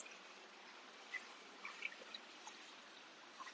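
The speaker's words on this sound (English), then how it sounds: "you'll see that the water should be coming right out of the zipper" Water trickles and pours faintly from the zipper of a floating AquaBLAST 20-liter dry bag, a soft continuous running sound with a few tiny drips and splashes, no voices.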